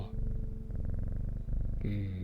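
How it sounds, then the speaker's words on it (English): A cat purrs in the video game Strange Horticulture, a steady, close, pulsing rumble that keeps going for a couple of seconds before a brighter tonal chime enters near the end. "Purring cats. Lovely."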